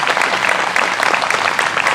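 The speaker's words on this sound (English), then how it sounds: "I'd like everyone to give a big round of applause to these women just for standing up and being part of the process" Loud, dense applause rises from the audience at a school board candidate forum, continuous clapping close by that lasts the whole moment.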